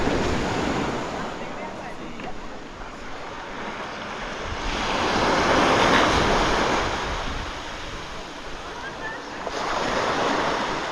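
Ocean surf washes steadily onto a popular beach near the town center on Fernando de Noronha, Brazil, a continuous rolling roar that swells and eases, with some wind noise.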